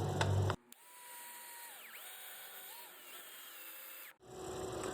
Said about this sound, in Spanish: con un taladro procedemos, una vez que hemos marcado el punto, procedemos a perforar